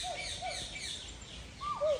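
Birds in an enclosure at Nandankanan Zoo in Bhubaneswar, Odisha, give a few brief, faint whistled calls, with a clearer, louder call near the end.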